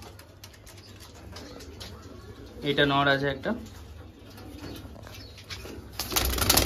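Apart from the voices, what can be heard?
Madras pigeons cooing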